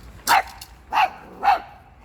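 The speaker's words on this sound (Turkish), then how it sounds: "Hera neye havlıyorsun yine?" A dog barks three times in a garden at night, each bark loud and close, spaced about half a second apart with quiet gaps between.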